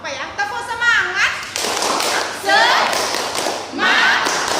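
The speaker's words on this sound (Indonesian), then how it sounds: "Tepuk semangat." Primary schoolchildren in a classroom doing the rhythmic tepuk semangat clapping chant, rhythmic group claps mixed with loud chanted children's voices.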